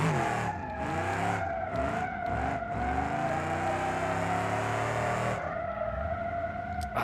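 A car drifting in third gear in BeamNG.drive, the engine revving steadily with tires squealing and skidding throughout, loud and continuous, with a brief change in pitch near the end.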